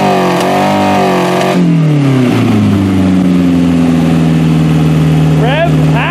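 A Toyota Camry wagon engine, 1991-1996 model, revs up loudly and close, then settles back down toward a steady hum, with a voice speaking over it near the end.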